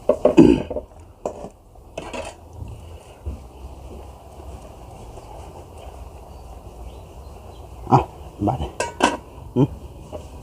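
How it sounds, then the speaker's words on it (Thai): A lid clatters onto a metal cooking pot while eel curry is made, with a few sharp clanks of pot and utensils at the start and end and quieter handling between them. "ปิดหม้อ"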